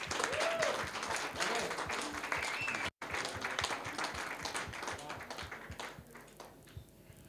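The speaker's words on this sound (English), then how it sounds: "So big applause." An audience at a live event in Davos applauds steadily, a crowd of clapping hands at moderate distance with a brief dropout partway, fading somewhat toward the end, faint voices beneath.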